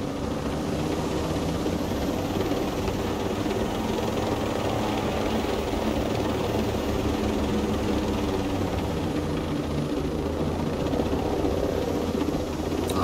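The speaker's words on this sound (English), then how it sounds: "Like a resistance helicopter flying past" A resistance helicopter flies past in the video game Ghost Recon Breakpoint, its rotor and engine forming a loud, steady, droning roar that holds close and constant throughout with no voices over it.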